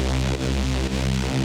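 A reese bass synth in a drum and bass track, a thick, buzzing, detuned low drone with slow throbbing phasing, loud and continuous with brief dips.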